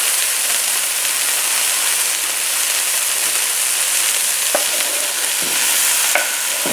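A red vine-ripe tomato fries in a hot pan with kale, quinoa and mushrooms, giving a loud, even hiss of sizzling that runs throughout, with a couple of soft utensil knocks near the end.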